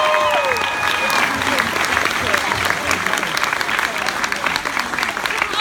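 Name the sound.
audience applause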